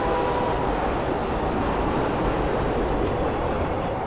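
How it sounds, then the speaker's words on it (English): A fast train in a video game rushes past in a steady, loud rumble with a rattling, roaring wash of noise and no voices. "That's a fast train."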